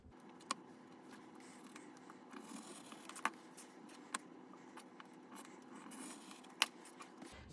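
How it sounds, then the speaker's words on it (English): Sharp scissors snip through a stack of three layers of quilting fabric, a few distinct crisp cuts standing out against a quiet room. "And then I am going to cut the template C pieces, and there's 3 pieces of fabric here."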